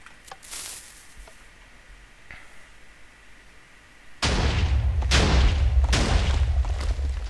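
Blocky cannon blasts in Minecraft during cannon experiments: after a quiet stretch with a couple of faint pops, three loud booming shots fire in quick succession, each with a broad crackling burst and rumbling tail.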